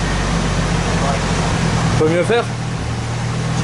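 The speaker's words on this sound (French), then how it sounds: "Donc là le moteur est tournant" A Nissan S14's engine idles after a hot-start test, a steady low rumble running continuously beneath a brief spoken exchange.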